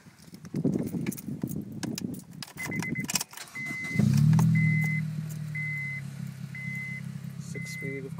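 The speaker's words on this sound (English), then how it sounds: "Skunk2 exhaust." An Acura RSX Type-S six-speed fitted with a Skunk2 exhaust starts up after some clattering handling noise, then settles into a steady, loud, low idle rumble, with a faint warning chime beeping repeatedly over it.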